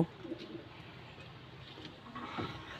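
Pigeons settled into their nest boxes inside a loft give soft, faint coos against a quiet background, with a slightly fuller burst of calls near the end.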